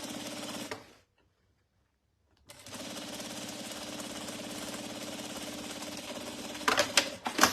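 A sewing machine stitching a crossbody bag runs in a steady mechanical whir with rapid needle rhythm, stops for over a second of silence, then resumes for a long continuous run ending with a few louder clunks.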